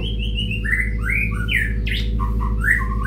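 A long-tailed white-rumped shama (murai batu) sings loud, close and alone, rapid varied whistles and chirps tumbling over a steady low hum.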